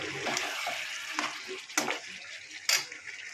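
Chicken sizzles in a pan as fried onions (beresta) are stirred in, a steady frying hiss broken by a few scraping stir strokes, close and fairly quiet, with no talking.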